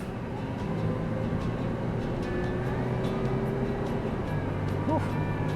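Supercharged Toyota 4Runner towing a trailer on the road, a steady close engine and road drone with low rumble throughout, holding constant loudness from start to finish.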